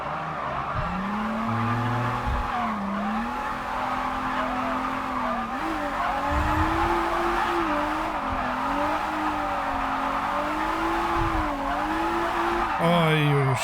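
A car drifts in the racing game Japanese Drift Master, with the clutch repeatedly kicked. A steady, loud engine note rises and dips around tire skid noise throughout, with a brief shift in tone near the end.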